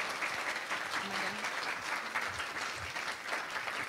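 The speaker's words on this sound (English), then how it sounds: "could we give Zariah a round of applause for just sharing" Steady audience applause fills a room at an evening community event, dense and sustained throughout, with a voice briefly audible beneath the clapping.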